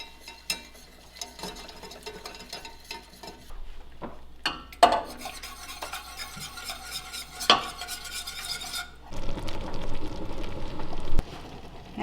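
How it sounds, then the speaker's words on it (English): Butter and gluten-free flour are whisked together in a hot pan, giving a steady run of metallic scraping and clinking strokes with a faint sizzle, close up and without talk. "I'm just going to whisk that together"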